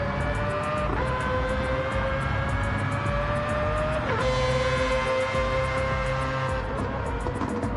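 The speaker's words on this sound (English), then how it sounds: "The Mazda never sounds comfortable." A Mazda racing car engine in Gran Turismo 7 screams at high revs during an endurance race at Spa, its pitch climbing steadily and dropping sharply at gear shifts, loud and continuous with no talk.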